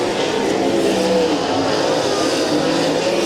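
Sprint race cars roar past on the Valley Speedway oval during an ASCS National Tour event, a loud continuous engine drone close by with no break in the noise.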